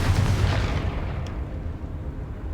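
Confringo fire spell exploding in Hogwarts Legacy, a heavy booming blast at the start that rumbles and fades over a couple of seconds.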